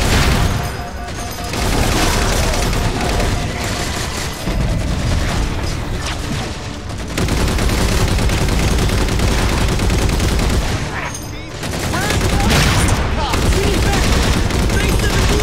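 Turret gunfire in Halo 4, a loud, sustained stream of rapid automatic shots and booms that runs nearly the whole time with only brief gaps, close and dominant over faint talk.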